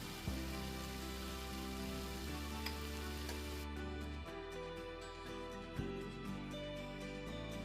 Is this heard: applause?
no